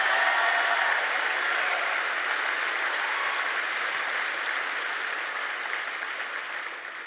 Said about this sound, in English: Why don't you guys go ahead and round of applause for yourself?